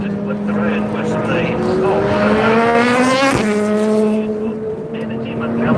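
The number 6 Porsche race car spins around at the Rolex 24 at Daytona, its engine roaring loud with a brief squeal of tires partway through, while a commentator talks over it.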